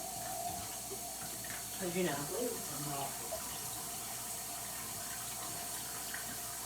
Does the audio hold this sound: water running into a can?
yes